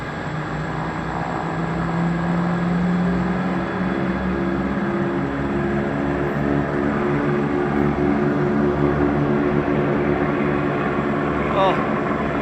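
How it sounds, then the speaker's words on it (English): Everett DC-6 piston propeller airliner moving at Ted Stevens Anchorage airport, a steady droning engine hum with layered harmonic tones, fairly close and continuous throughout, with people talking over it. "Everett's DC-6 on the move, apparently."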